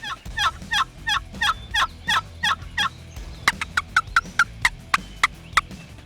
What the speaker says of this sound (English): he will gobble back at you